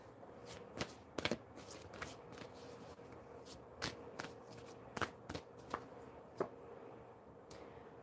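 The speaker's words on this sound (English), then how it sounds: "So I'm going to draw a few new cards" A deck of Angels Among Us oracle cards is shuffled by hand, soft close riffles and sharp slaps of the cards at irregular intervals over a quiet background.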